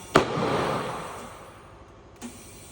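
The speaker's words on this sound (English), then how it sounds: "You can hear our bead seating in the background." Sharp pop of a tire bead seating onto the rim on a Hunter Engineering Maverick tire changer, a loud burst followed by a decaying hiss of air, then a second, smaller pop about two seconds later.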